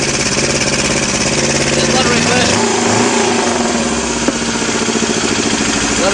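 An engine held near idle by late intake valve closing at nearly full throttle makes a strange induction sound as reverse flow pushes out of the intake. The steady, loud, buzzing drone plays while someone talks over it.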